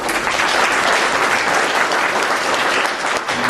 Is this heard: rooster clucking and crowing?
no